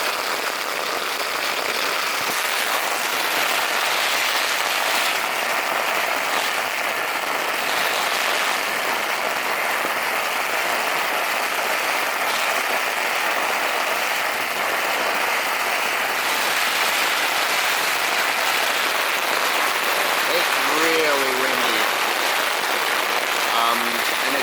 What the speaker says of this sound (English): raining super hard.